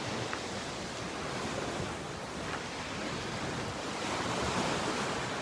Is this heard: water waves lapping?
yes